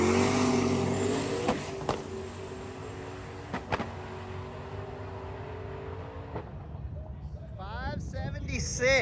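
A drag racing car with a fresh engine making a pass, its engine note fading from loud to distant over several seconds, with a commentator talking near the end.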